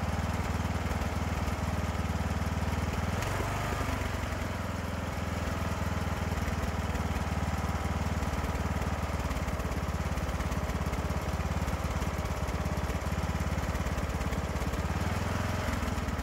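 A small engine idles steadily after startup, a dense, even low rumble with fine rapid firing pulses that hold constant throughout, close and fairly loud with no talk.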